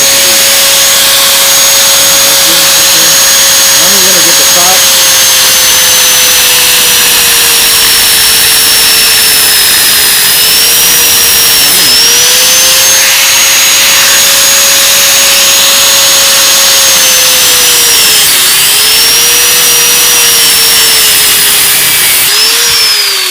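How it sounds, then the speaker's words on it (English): An angle grinder fitted with a thin cutting blade slices through the outer cage of a wheel bearing on a Hyundai Accent rotor, giving a loud, steady high-pitched whine that holds for over twenty seconds with slight pitch dips as it bites. "Alright, my grinder. Now I have a thin cutting blade as compared to a grinding wheel"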